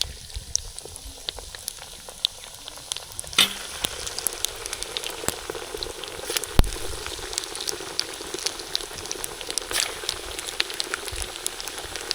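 Fenugreek fries in hot oil for a Punjabi panjiri dish: a steady, close crackling sizzle runs throughout, with a sharp clatter near the start and a few pops and clinks from the pan.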